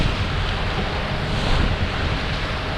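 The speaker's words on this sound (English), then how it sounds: "the surge is coming in, so the waves are stacking up" Ocean waves and surge at the Nazaré harbor entrance, a loud, continuous roar of churning water mixed with wind buffeting the microphone, steady throughout with no speech.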